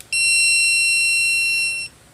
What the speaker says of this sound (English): I can beep it like that and the dogs know, hey, something's up.